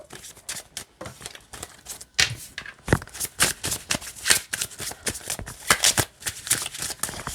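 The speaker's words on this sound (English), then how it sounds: "it shuffles nice this way too" A flexible, snappy tarot deck of traditional design with a modern touch being shuffled by hand, giving repeated crisp riffling card bursts with brief pauses between them, close and fairly loud, with no talking.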